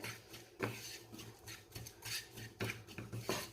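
Chili powder is stirred in a pan on a low flame for pickle, heard as a soft, intermittent rasp and scrape of a spoon against the pan.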